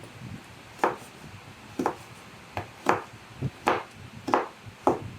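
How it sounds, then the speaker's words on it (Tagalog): A knife chops raw carrots into small cubes on a cutting board, giving about seven crisp, evenly spaced taps close by in a quiet kitchen. "Pinapakita ko lang po sa inyo paano paghiwa ng carrots."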